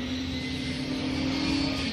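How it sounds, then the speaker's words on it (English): Drift car engine at a Formula Drift PRO2 qualifying event in Atlanta, a steady, loud, sustained drone with a strong low hum under broadband roar, holding high revs for the full two seconds. "The car sounds good."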